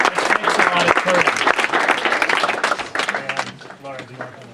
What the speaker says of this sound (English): Let's have a big round of applause, because there's a lot of you here.